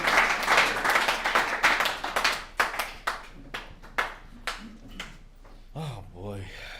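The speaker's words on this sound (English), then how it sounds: "So let's give a round warm of applause for Caesar." Audience applause welcoming a speaker to the front at a recovery services alumni meeting, a dense burst of clapping that thins into scattered claps before a voice begins talking.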